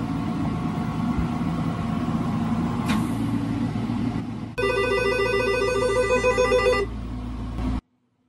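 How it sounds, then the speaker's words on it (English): An intercom phone rings inside a hyperbaric oxygen therapy chamber, one electronic ring burst over a steady machine hum before everything cuts off. "press the button on intercom and then it would ring on the phone"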